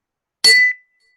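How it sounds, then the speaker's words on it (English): A single 30-second warning bell rings once at a House District 36 candidate forum: a bright, clear ding that rings out and fades within about half a second into silence. "You may hear, I hope you will hear, a 30-second warning bell."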